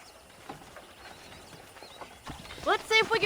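Horse hooves clip-clop in the Red Dead Redemption game world, a steady patter of soft steps under a voice, followed by a louder whinny near the end.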